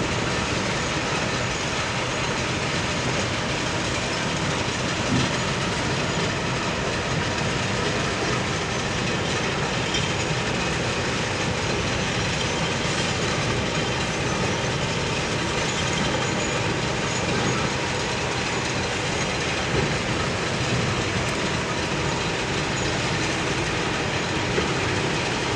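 The Weyerhaeuser lumber mill in Raymond, Washington, running at about 2 or 3 in the morning gives off a constant dense industrial rumble and clatter, like rolling machinery, steady and unbroken throughout with no voices.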